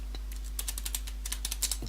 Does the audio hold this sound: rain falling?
no